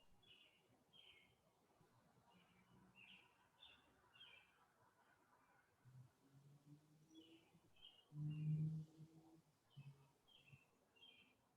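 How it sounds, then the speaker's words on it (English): Faint bird chirps repeating in short bursts far off, over a quiet background with a soft low thump midway. "In the distance, we may be able to hear the chirping of birds."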